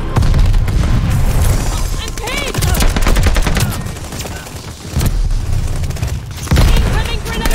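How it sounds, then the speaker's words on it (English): Grenade blast amid heavy gunfire in the World War II shooter Call of Duty: Vanguard, a loud continuous battle din with repeated booming thumps and overlapping shouted voices. "Throwing grenade!"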